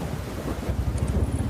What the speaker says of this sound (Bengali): হঠাৎ এত জোরে ঝড় বৃষ্টি শুরু হয়ে গেল।